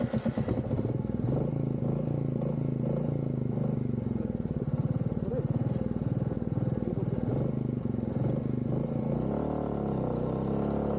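A motorcycle engine runs steadily at close range, a loud chugging idle with slight throttle swells, while the bike sits stuck on a rough, muddy road.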